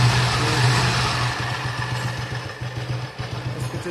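A Suzuki Gixxer 150 motorcycle with a rebuilt engine runs with a faulty sound: a steady, loud idle thrum with a rough, uneven rattle and slight dips, heard alone.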